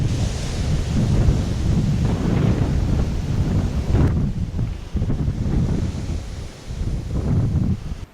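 Strong wind buffets the microphone in a continuous roar with gusty swells and low rumbling, loud and close, with no voices.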